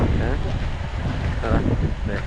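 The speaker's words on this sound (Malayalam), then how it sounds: "ഭയങ്കര കാറ്റ്" Strong gusting wind at Nelliyampathy, with rain approaching, buffets the microphone in a heavy, rumbling roar that stays loud throughout while voices talk underneath.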